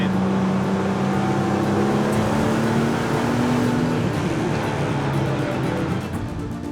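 A BMW 3.0 CSL Batmobile engine pulls hard while driving, a loud, close, steady drone with a rising tone that holds and then dips as the car eases off near the end.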